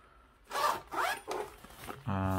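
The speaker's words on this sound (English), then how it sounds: "when you close your zip" A zipper on a sling bag is pulled closed in several short, scratchy strokes, close to the microphone, ending in a brief, sharper zip.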